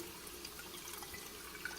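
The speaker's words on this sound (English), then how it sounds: "I let the water go in through the thing and I swirl it." Water running from a tap into a container of Dollar Tree microgreen seeds, with a soft steady wash and faint drips, quiet and close, no talking.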